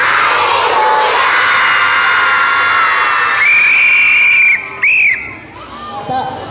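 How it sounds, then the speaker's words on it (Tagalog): A large crowd of children shouts together in a loud, sustained roar, followed by two sharp whistle blasts, after which the noise drops quickly to near quiet at a Philippine children's ministry gathering. "Sumigaw nga tayo ng hallelujah."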